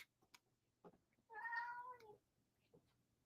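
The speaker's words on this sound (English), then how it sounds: "He's just licking his chops and meowing." A house cat gives a single clear, drawn-out meow lasting under a second, close but fairly quiet, with faint small mouth sounds before and after.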